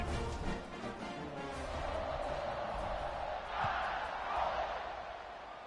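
Steady roar from a football stadium crowd at an Alabama game, swelling slightly midway and holding loud and continuous throughout with no clear voice above it.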